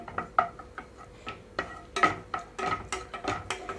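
Cashews, about two tablespoons, going into a pan to fry for a coconut rice dish, heard as scattered light clinks and soft taps of nuts and a stirring spoon against the pan, with no steady sizzle.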